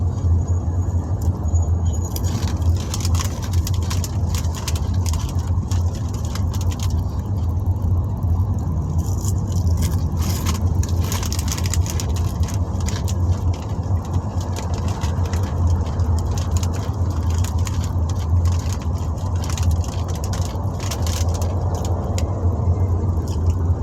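Cars sit in jammed road traffic, giving a constant low engine drone and idling rumble, with scattered ticks and light rattles over about twenty-four seconds and no voices.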